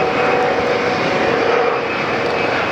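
A Gulfstream G280 business jet passes overhead near a Fort Lauderdale airport, a steady loud engine roar filling the whole moment without pause.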